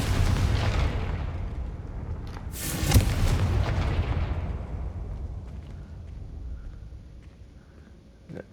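A Confringo spell explodes in a video game with a sudden loud boom that breaks out of an already dense, rumbling roar, then a long fading rumble.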